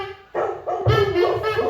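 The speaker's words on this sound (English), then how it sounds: "Dog bark." A dog barks at close range, a few loud, throaty woofs in quick succession.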